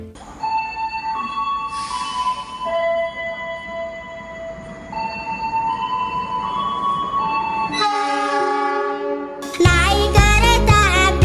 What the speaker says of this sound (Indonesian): Naik kereta api, tut tut tut